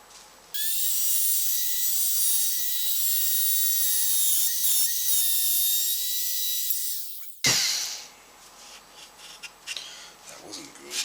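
A router makes a shallow pass along a 3/4 inch template while cutting a spring cavity, giving a close, piercing high whine for several seconds before it stops abruptly, followed by faint handling noises and brief talk.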